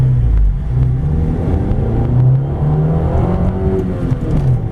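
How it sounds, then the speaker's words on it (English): A 1996 Honda Accord LX with a five-speed manual pulls hard from a stop up a hill, its engine note rising steadily and loud with gear changes audible in the shifting drone. "We'll be doing an acceleration pull going up this hill"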